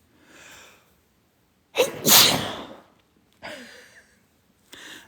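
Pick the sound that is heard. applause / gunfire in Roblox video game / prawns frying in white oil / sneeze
sneeze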